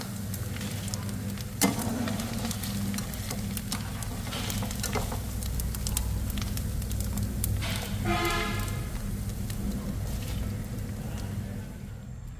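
Close, steady sizzling and crackling of vegetarian ribs frying in hot oil, with occasional clinks and stirring sounds.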